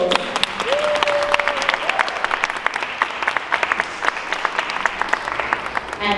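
An audience at an Africa Expo event breaks into applause, uneven rapid clapping with a brief tonal whistle or squeal near the start.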